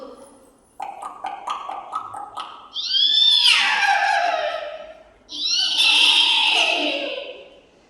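A student's voice imitates a horse: quick clip-clop clicks of hooves, then two long, wavering whinnies that rise and fall.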